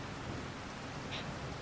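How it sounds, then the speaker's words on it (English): Steady broadband rain hiss outdoors beside a gold mini trommel, constant and even throughout with no voices. "And it had to be raining too."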